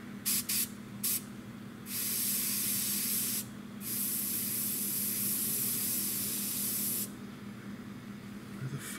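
An airbrush hisses in bursts, a few quick short sprays followed by longer steady blasts of fine, airy spray, close by, painting a Tamiya P-47M model kit.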